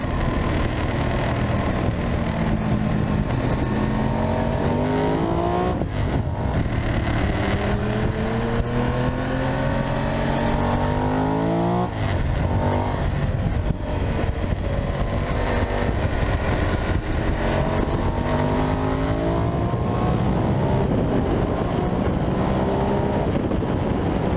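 Ducati 998 motorcycle ridden hard around a race track, engine climbing through gears with repeated rising pitch sweeps and shift breaks, steady loud roar mixed with heavy wind rush, no talking.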